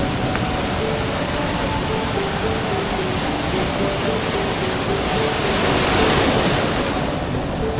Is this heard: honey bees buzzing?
no